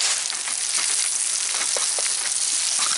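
Venison fajitas with onions, peppers and mushrooms sizzle in a pan on a small camper stove, a loud, steady, crackling fry that holds without a break and without voices.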